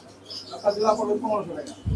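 Pigeons coo at a pigeon shop in the Jinjira market, their low murmuring calls running steadily through the moment with bird chatter over a busy market background.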